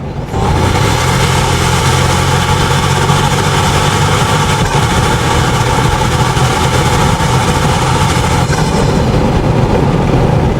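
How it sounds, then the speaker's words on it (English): A Toyota Tacoma Trailhunter truck engine roars loud and steady through its snorkel intake, with a deep rumble and airy intake rush, holding constant throughout with no talking. "Now listen to this snorkel."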